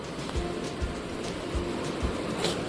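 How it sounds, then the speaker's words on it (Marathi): Floodwater rushes through an onion field after a cloudburst, a dense continuous roar of churning water with soft periodic surges, steady and fairly close. "तुम्ही बघू शकताय पाणी कसं उसळ्या घेतं इकडं वावरात कांद्यात पूर्ण आणि आणखीन जोऱ्यात पाणी वाढलं आहे"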